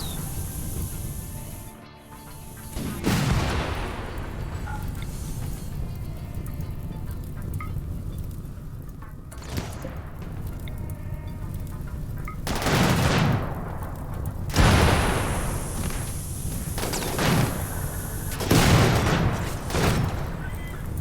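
Explosions and gunfire rattle through a RimWorld game battle, with bursts of rapid fire and several sharp blasts layered over a steady din of combat for about twenty seconds, and no voices.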